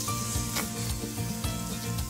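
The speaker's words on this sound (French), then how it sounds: "laissez griller votre viande" Beef fillet sears without fat in a hot stainless steel pan, giving a continuous close, crackling sizzle with faint scraping.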